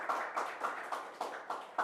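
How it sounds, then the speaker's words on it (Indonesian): Audience clapping at a talk on renewable energy in Indonesia, a short burst of loose, slightly uneven claps repeating in a steady rhythm, fairly faint with no voices over it. "Silakan tepuk tangan dulu pemirsa."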